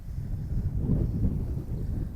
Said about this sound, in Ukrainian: сьогодні дуже вітер